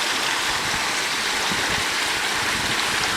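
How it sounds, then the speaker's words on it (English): Creek water flowing along a river bottom, a dense, steady rushing wash that holds constant and fairly loud throughout. "you can enjoy the sounds of this beautiful creek"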